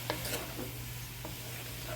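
Yam stew with red wine and basil in a pot coming back up to a boil, giving a soft bubbling sizzle with a faint stirring scrape under a steady background hum.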